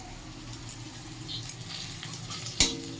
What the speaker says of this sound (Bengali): এই যে ভেন্ডিটা ভাজছি অল্প একটু আছে ভেন্ডিটা ভাজা হয়ে যাবে